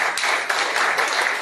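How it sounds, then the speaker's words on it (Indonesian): Church congregation applauding during a sermon, a dense, steady wash of many hands clapping together, fairly loud and close. "Tepuk tangan bagi Allah."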